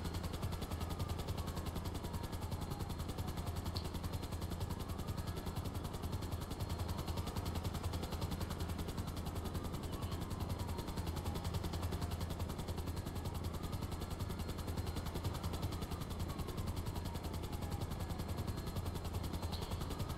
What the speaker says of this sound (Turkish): Evet yükseldik arkadaşlar gidiyoruz helikopterle.